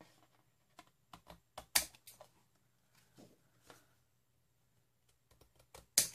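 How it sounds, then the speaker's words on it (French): Scissors snip through overhanging lace on a handmade floral Mother's Day card, a run of short sharp cuts at irregular intervals, close and fairly quiet with no voices. "je vais pouvoir peut-être découper ma dentelle qui dépasse"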